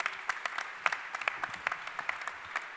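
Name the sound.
audience applauding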